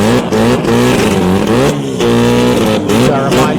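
Rotary-engined Mazda RX7 drag cars racing at a drag strip, a loud, sustained buzzing engine roar with shifting pitch and brief dips, very close.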